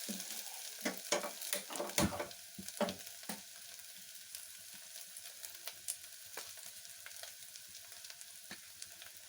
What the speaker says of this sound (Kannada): ಇದನ್ನು ಈ ರೀತಿ ಫ್ರೈ ಮಾಡ್ಕೊಳ್ಳಿ.